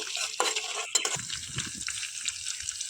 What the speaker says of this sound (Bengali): আমি একটু সময় নিয়ে খুব ভালো করে ভেজে নেব